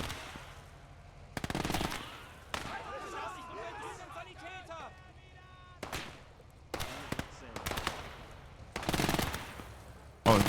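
Turret gunfire in a World War II real-time strategy game, with several loud bursts of rapid shots separated by quieter stretches and a voice speaking between them.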